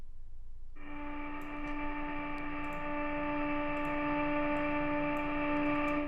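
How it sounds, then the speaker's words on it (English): A sustained, buzzing electric cello tone playing harmonics through guitar rig distortion, with rich stacked harmonics, entering after a brief pause and holding steadily loud to the end. "I've essentially just taken the harmonics, and I've put on a guitar rig distortion"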